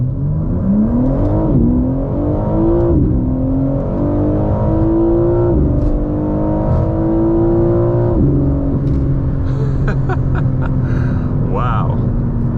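A 2024 BMW M4 Competition xDrive accelerates hard from a standing launch, its engine note climbing loud and close through several quick upshifts, each shift marked by a brief dip before the pitch rises again.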